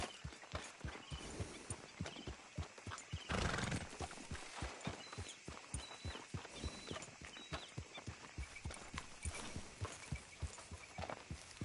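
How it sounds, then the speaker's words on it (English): In the western video game Red Dead Redemption 2, a horse's hooves clip-clop in a steady walking rhythm close by, with neighs and whinnies breaking through over the hoofbeats. "get that horse out of here"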